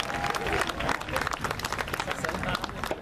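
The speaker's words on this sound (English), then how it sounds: "let's give a round of applause for 60 great years here in the city" Outdoor audience applause at a city's 60th anniversary Freedom Firework Festival in Downey, a crowd clapping and cheering continuously, with voices mixed into the wash of claps.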